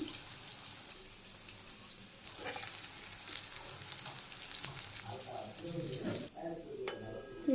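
Vegetables with cumin sizzle in oil in a pan on a village kitchen stove, a steady close crackle with stirring scrapes, some clinks near the end and faint talk in the background.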